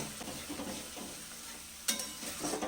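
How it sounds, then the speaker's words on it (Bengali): Spice masala with salt sautéing in a pan for a vegetarian cauliflower dish, a quiet, steady sizzle with a few soft stirring scrapes and one sharper scrape partway through. "এই মশলাটাকেও ভালো করে একটু কষে নেব"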